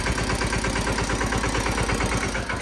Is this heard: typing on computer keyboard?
no